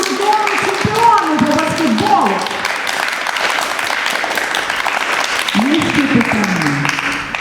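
A TV studio audience gives continuous, loud applause, with people's voices rising over the clapping at moments.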